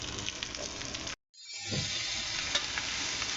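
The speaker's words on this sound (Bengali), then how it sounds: "তেলের মধ্যেই আমি বেগুনটা ভেজে নিলাম" Eggplant frying in hot oil, a steady close sizzle with stirring scrapes, briefly cut to silence before the frying hiss returns, louder and even.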